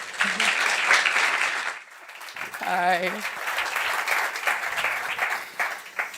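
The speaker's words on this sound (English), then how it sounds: "please give them a warm round of applause" Audience applause at a POLITICO Speakeasy event at the GLOBSEC Forum, a steady wash of clapping that fades after about two seconds, then picks up again under a voice greeting and talking.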